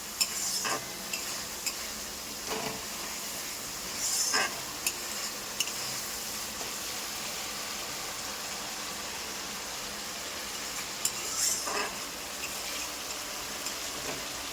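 Fish roe masala with tomato purée stir-fried in oil in a pan, a steady soft sizzle with scraping spatula strokes and occasional clinks, close and alone.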